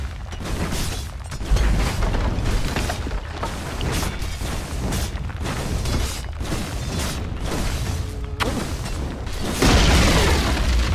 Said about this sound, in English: Radiant's bottom tower has fallen.